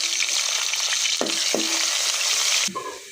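Sliced onion, chopped garlic and leaves sizzling in hot oil for a dal tempering, a loud steady frying hiss with a couple of sharp stirring clacks, dropping quieter near the end.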